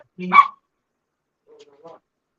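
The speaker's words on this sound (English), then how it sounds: "I got dogs in the house, man." A dog in a house gives one short sharp bark near the start, followed after a pause by a softer low whine or yip.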